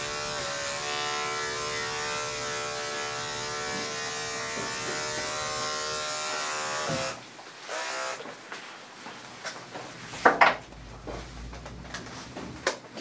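Electric clippers buzz steadily while shaving a golden retriever's tail, a close, continuous hum that cuts off midway and gives way to soft handling rustles and a few brief clicks.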